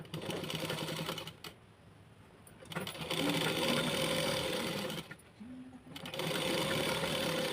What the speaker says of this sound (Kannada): ಈ ಒಂದು ಸ್ಲೀವ್ ಕೂಡ ನಾನು ಅದೇ ರೀತಿಯಾಗಿ ಫೋಲ್ಡಿಂಗ್ ಮಾಡಿ ಸ್ಟಿಚಿಂಗ್ನ ಮಾಡ್ತೀನಿ